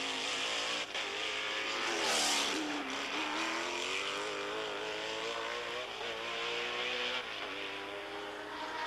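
Can-Am race cars scream around the Trois-Rivières street circuit at the 1984 Grand Prix, with engine notes rising and falling as the cars pass, heard from a distance under steady race commentary.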